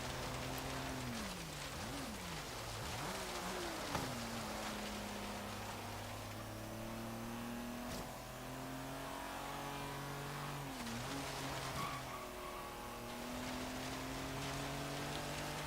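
A car accelerating along a dirt straight, engine note climbing and dropping through several gear changes, heard from inside under a steady patter of gravel and road rumble, no talking.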